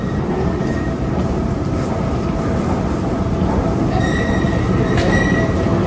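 A driverless automatic metro train pulls away from the platform with a loud, continuous rumble of wheels and car noise, thin wheel squeals rising near the end, no speech.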